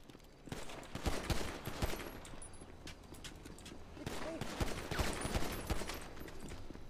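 Rapid gunfire rattles in a GTA roleplay game, with bursts of sharp shots crackling over a busy background and people talking and shouting over it.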